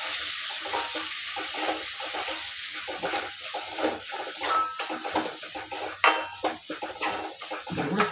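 A steady sizzle of masala paste with coconut and poppy seed frying in a hot pan, broken by occasional scraping and clinks of a spoon against metal.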